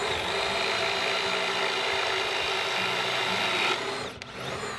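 A power drill bores a hole through wood while building a toolbox, its steady loud whine running nearly four seconds before cutting off and winding down.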